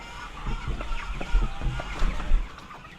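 Young backyard chickens, a two-month-old batch kept in a coop, clucking softly and repeatedly in a steady low chatter with occasional louder calls nearby.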